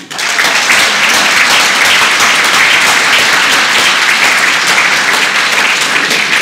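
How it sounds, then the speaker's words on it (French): Loud, close applause from a crowd at a Rassemblement National political meeting in Occitanie, starting abruptly and holding a thick steady roar of clapping for several seconds. "On peut l'applaudir"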